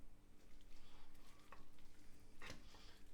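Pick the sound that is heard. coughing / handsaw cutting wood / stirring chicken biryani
stirring chicken biryani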